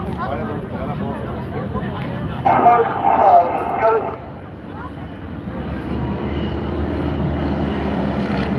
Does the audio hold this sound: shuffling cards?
no